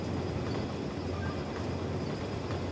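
A train entering a station at an airport in the video game Cities: Skylines, a steady rumbling rail noise that stays even and moderately loud throughout.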